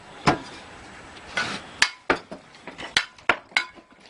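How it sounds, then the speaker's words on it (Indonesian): A construction worker chops a brick with a cement trowel, giving a series of sharp, hard clinking strikes at an irregular, quickening pace, close by with no talk. "Jika batu bata harus dipotong, pria ini hanya menggunakan sendok semen untuk memotongnya."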